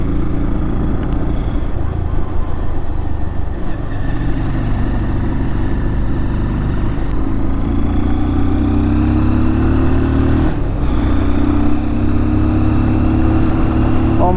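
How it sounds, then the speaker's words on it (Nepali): A motorcycle overdue for servicing and running poorly rides along a road onto freshly paved surface, its engine a loud, steady close drone throughout with a rising whine partway through. "बाइक सर्भिसिङ गर्ने बेला भएर राम्रो कुद्दै कुद्दैन"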